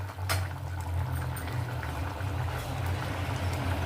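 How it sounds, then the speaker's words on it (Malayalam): Fish curry bubbles in a covered pot over low heat, a continuous simmering hiss and gurgle with a steady low hum beneath and a few sharp clinks near the start. "നന്നായി തിളയ്ക്കുന്നുണ്ട്."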